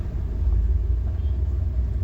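Steady low rumble of road traffic on a highway near Daman, a dense continuous drone of vehicles with no distinct passes or voices.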